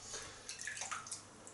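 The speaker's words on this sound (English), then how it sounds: "So we're going to add some water" Water splashed into a thick, clotted-cream-like unscented shaving soap lather, a brief soft wet dribble and splash with small drips, close and quiet, no talking.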